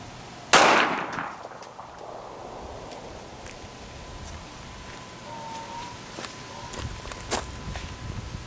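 A 9mm G2 Research RIP round is fired into a bone-in pork shoulder: one loud, sharp gunshot near the start, followed by faint rustling, light clanks and footsteps, with no talking.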